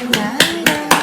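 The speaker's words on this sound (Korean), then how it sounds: "박수 한번 치고" A group claps in unison, four sharp, evenly spaced claps close by over a steady tonal background, at a church gathering before a birthday song.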